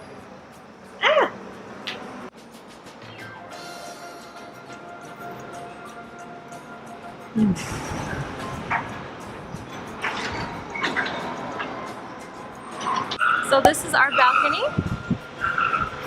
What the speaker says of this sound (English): it's a little bit noisy because a lot of stuff is in construction and there's so much traffic downstairs